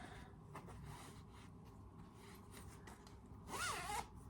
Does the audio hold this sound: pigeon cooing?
no